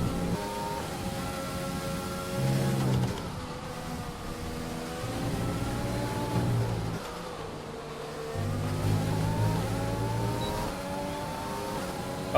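Race car engines in the F1 2020 video game, several high-pitched engine notes whining and climbing through gear changes side by side in a drag race, loud and continuous with no voices.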